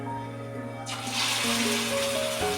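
Small eggplant fritters drop into hot oil and set off a sudden broad sizzle that keeps hissing steadily, with a faint background hum and no speech.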